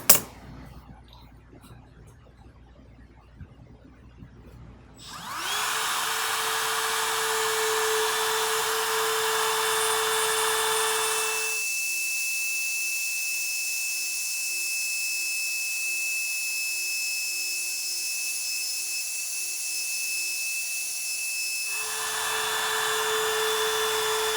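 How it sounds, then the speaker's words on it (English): A woodworking router cuts shallow recesses for card table hinges in a demilune table, its loud steady high whine starting abruptly after a quiet opening, holding under load, easing briefly, then rising again. "So I've set my router up basically to the depth of that leaf."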